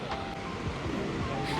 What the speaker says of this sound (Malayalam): നമ്മൾക്ക് ഇവിടെ ഒരു വെള്ളച്ചാട്ടം കാണാൻ പറ്റും